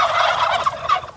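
Turkeys gobbling on a rural turkey farm in China, a loud, close, continuous rattling chorus of gobbles with no speech over it.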